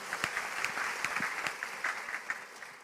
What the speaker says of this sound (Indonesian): Tepuk tangan buat dia dulu.